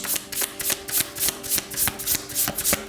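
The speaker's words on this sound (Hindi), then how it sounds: "तो चलिए शफल कर लेते हैं सैजिटेरियस धनु राशि के लिए।" Tarot cards shuffled for a Sagittarius reading, about a dozen rhythmic riffling strokes in a steady pulse, close and fairly loud with no voice over them.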